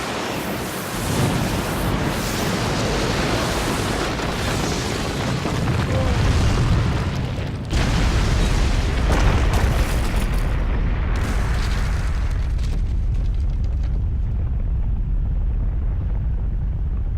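Fire style jutsu explosion in Naruto Shippuden: Ultimate Ninja Storm Revolution, a loud sustained roaring blast with rumbling booms and a second surge midway, slowly thinning into a fading rush.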